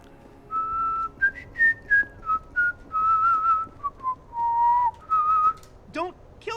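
Someone whistles a video game theme, a clear melodic tune of short phrases and held notes, close and alone, ending in a quick rising swoop.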